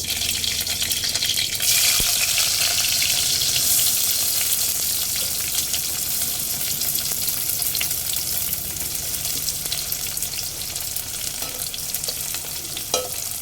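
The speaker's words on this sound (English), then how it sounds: "For seasoning, the oil is getting hot." Onion and chili fry in hot oil for seasoning in a pan, a steady bright sizzle and crackle running unbroken at close range, with occasional clinks of stirring.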